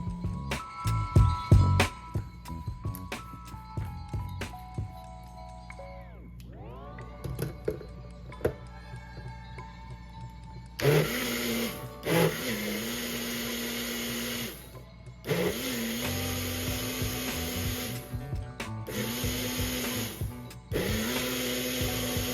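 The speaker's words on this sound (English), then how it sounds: "I'm going to add that to my blender, and I'm just going to pulse this until it's all the way pureed and smooth" A kitchen blender pulses butternut squash and onion into a smooth puree. The motor starts and stops in several bursts, each rising to a loud whir and then cutting out, with softer clinks and pauses between them.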